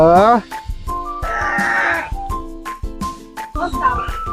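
Goat bleating at a cafe zoo in Sawang Daen Din, Sakon Nakhon, Thailand, with drawn-out wavering bleats close by, mixed with other short animal calls and people talking nearby.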